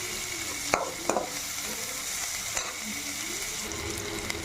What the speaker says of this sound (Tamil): இப்போ வெங்காயம் ஆட் பண்ணலாங்க.